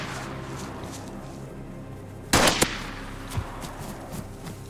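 A single loud gunshot cracks in a zombie survival video game, followed by a couple of fainter shots over a low ambient hum.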